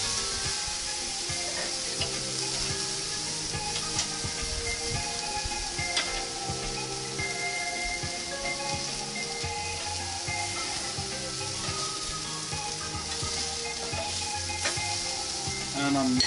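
Potatoes sizzle on a grill at a late-summer cookout, with a steady close crackle and spitting that carries on throughout, dotted with small pops and light ticks.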